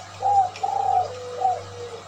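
Perkutut zebra doves and spotted doves coo nearby in three soft, rounded phrases over a steady low hum.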